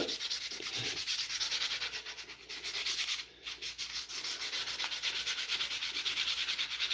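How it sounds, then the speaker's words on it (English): Wood is sanded by hand for a Telecaster-style guitar build, giving rapid rhythmic back-and-forth scratching strokes that run almost continuously at close range, with one brief pause partway through and no talking. "Just watch me sand this."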